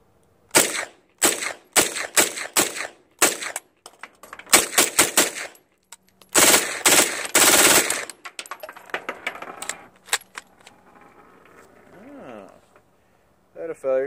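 PTR 9CT firing Winchester NATO 124 grain rounds unsuppressed outdoors, a string of sharp loud gunshots in irregular bursts, then a pause and quieter handling clicks and rattles toward the end.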